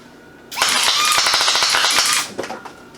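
An automatic gun fires in full auto, one loud, rapid burst of closely spaced shots lasting under two seconds, followed by a few scattered echoes and clatter.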